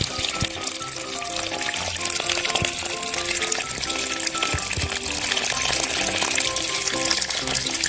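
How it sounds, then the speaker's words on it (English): Tap water runs steadily over a fish steak in a miniature kitchen, a constant hiss and splash close by, with faint clinks and musical tones underneath. "Rinse fish steak under running water."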